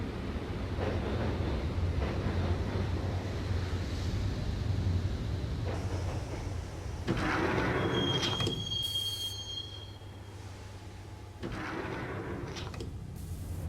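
A subway train rides through the Max Payne video game in a constant loud rumble of rolling wheels and rattling carriages, with a sharp metallic wheel squeal in the middle and a few abrupt clunks as the noise shifts.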